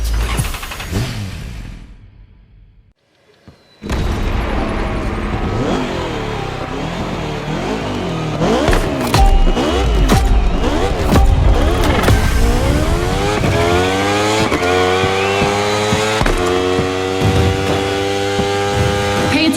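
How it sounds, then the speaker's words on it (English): Motorcycle racing engines in The Crew Motorfest on PS5 Pro during a Red Bull Speed Clash event roar loudly and continuously, revving up and down through repeated gear shifts, with a brief drop-out early on. "Now, time to unleash the moto racing power."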